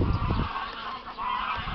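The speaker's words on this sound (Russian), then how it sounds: "Полетели гуси." A flock of geese honking as they fly over, repeated nasal honks at moderate distance in open air, loud and alone with no talk.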